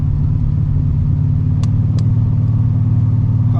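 A Chevrolet Monte Carlo engine running before it has fully warmed up, fitted with a new torque converter, gives a loud, steady low rumble that holds throughout with no voices.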